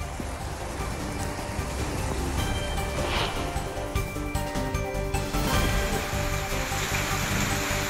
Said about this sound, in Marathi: बारामती शहर आणि परिसरात पावसानं दमदार हजेरी लावली